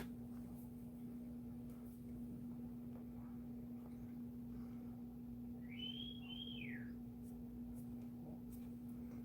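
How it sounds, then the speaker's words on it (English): A faint whistle from someone nearby, a short rising-and-falling two-note call over a steady low electrical hum. "My husband's whistling at me."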